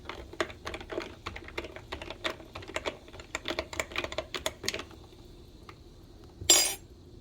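A spoon stirs a chokecherry limeade with sparkling water in a glass, a quick run of close, bright clinks and taps that stops, then one louder clink near the end.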